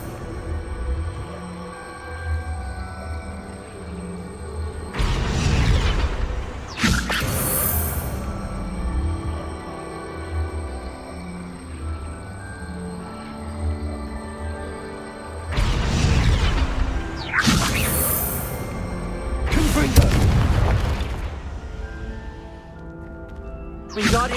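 Spell casts in Hogwarts Legacy: several loud whooshing bursts and booming impacts at intervals over a bed of game music and ambience, with occasional voices in between.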